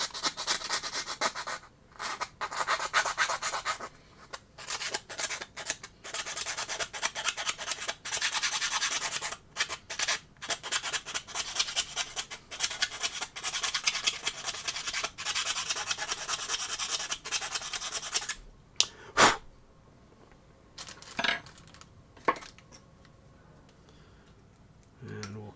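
A round file rasps steadily against a plastic model part for a kitbashed three-wheeler, close and continuous for most of the stretch before breaking into a few scattered scrapes near the end.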